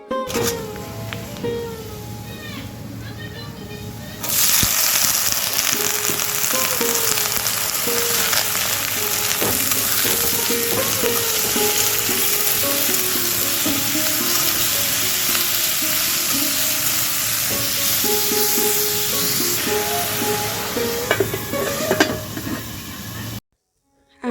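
Radish frying in a pan with onion, nigella seeds and dried chili, a loud steady sizzle that swells after a few seconds and holds with scattered crackles and stirring, no talk.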